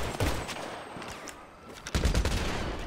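Several gunshots ring out in GTA roleplay, a quick cluster of sharp cracks near the start and a louder burst just before the two-second mark, over a noisy background.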